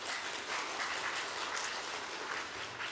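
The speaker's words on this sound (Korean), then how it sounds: "우리 박수로 한번 감사 인사 보내겠습니다" A church congregation at Sunday worship claps in thanks for a pastor, a soft, even wash of applause heard at a distance throughout.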